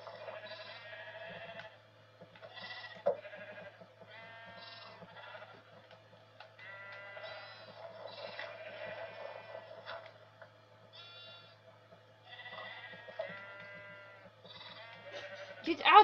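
Sheep in the Minecraft video game bleat repeatedly in a steady string of short, nasal digital calls that overlap one another and hold at a moderate level above a low background hum.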